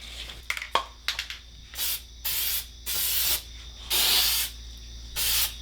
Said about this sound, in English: We're gonna spray this block and then we'll see what we do after that.